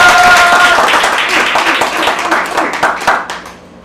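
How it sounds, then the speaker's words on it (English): A crowd at an open mic poetry event claps and cheers loudly, with individual sharp claps standing out, then thins and fades toward the end. "Give them a round of applause!"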